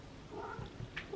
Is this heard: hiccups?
no